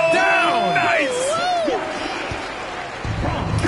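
A basketball crowd roars and whoops in an arena, loud and sustained, under a commentator's voice. A thud and sneaker squeaks cut through near the end.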